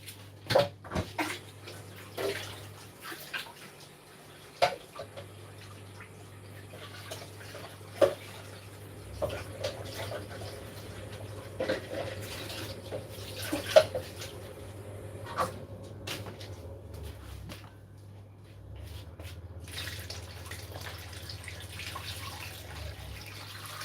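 Food is rinsed under a running tap and water is poured into a soup pot while peanut soup is made, giving a low steady water flow broken by scattered clinks and knocks, with no talk.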